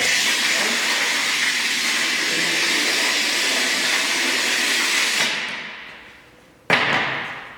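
A Montolit Flash Line tile cutter scores a large format tile with a long, loud, steady hissing scrape that fades out, then a short sharp snap followed by a brief dying rasp.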